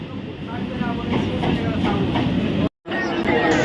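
A suburban train rumbles along steadily with a dense, rattling roar close by, briefly cutting out near the end before continuing.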